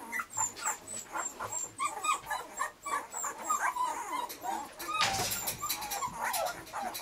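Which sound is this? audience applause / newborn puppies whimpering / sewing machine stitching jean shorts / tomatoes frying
newborn puppies whimpering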